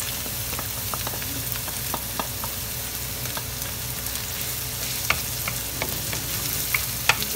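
Garlic sizzles steadily in a hot pan while bopis is cooked, with soft, scattered clicks and scrapes of stirring over a continuous low frying hiss.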